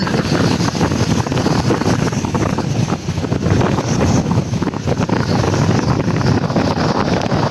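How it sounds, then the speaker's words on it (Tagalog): Strong typhoon wind roars over Manila Bay with crashing waves, a dense, continuous, loud rush battering the microphone without pause. "Grabing lakas ng hangin, ang alon."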